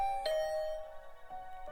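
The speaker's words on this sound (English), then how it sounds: "I had just returned to my room when the doorbell rang." Two-tone doorbell chime in a video game, ringing once clearly near the start, with a softer repeat of the chime near the end, alone with no talk.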